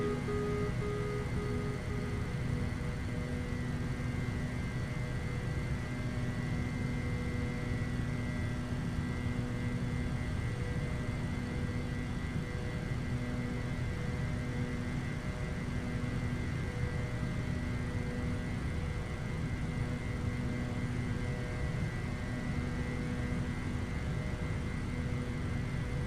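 A Delta Boeing 777 in Microsoft Flight Simulator holds its engines at climb power, giving a steady, unbroken droning roar with a constant high whine layered above it, heard alone without any voices.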